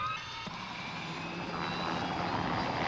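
Helicopter carrying a problem bear to a distant part of a park; a steady, droning rotor and engine noise holds throughout, fairly distant and unbroken.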